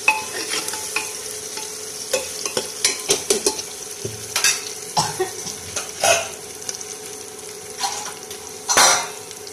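Dal tipped into a hot tempering in a pan on an induction cooktop, with steady close sizzling and repeated scraping stirs of a spoon against the pan, a few louder clatters, no talking.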